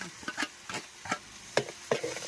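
Ginger paste, crushed chillies and shallots get mixed in a pan, giving a few distinct soft scraping strokes of a spoon, quiet and close, with a faint sizzle between them.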